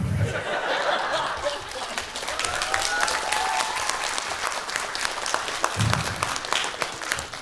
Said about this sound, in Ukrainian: Оплески жалю, я знаю.